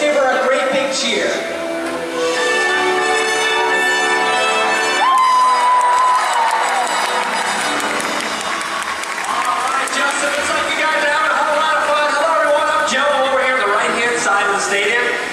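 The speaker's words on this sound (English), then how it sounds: "let's give her a great big cheer." A stadium audience cheers and applauds continuously for an orca named Nalani after her bow at the stage, with loud sustained crowd noise and music over it.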